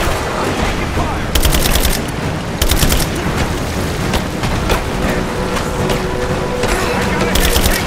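Gunfire rattles in short, loud automatic bursts in a Rise of the Tomb Raider video game battle at the Acropolis, spaced bursts over constant rumbling combat while soldiers shout throughout.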